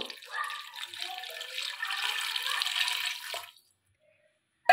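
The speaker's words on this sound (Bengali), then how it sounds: "প্রেসারের মধ্যে আমি পরিমাণ মতন জল দিয়ে দেবো" Water pours steadily into a pressure cooker holding potatoes for about three and a half seconds, then stops, leaving near silence before a sharp clink at the end.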